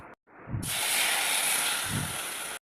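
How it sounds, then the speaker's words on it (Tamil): A loud, sustained sizzling hiss erupts as water hits a hot pan holding sugar, with steam rushing continuously for a couple of seconds before cutting off. "இதில் 1 டம்ளர் தண்ணி ஊற்றிக்கலாம்."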